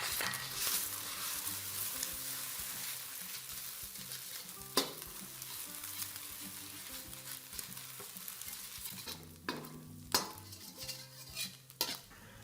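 Beaten eggs sizzle in hot oil in a pan as they are stirred and broken into pieces, with a steady frying hiss punctuated by sharp clinks and scrapes of a utensil against the pan.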